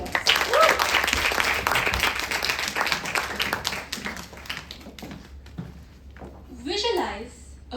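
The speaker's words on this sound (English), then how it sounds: "Let's welcome her with a huge round of applause." An auditorium audience at a college stage event claps loudly for an arriving speaker, dense applause that tapers off, then a voice begins speaking at the end.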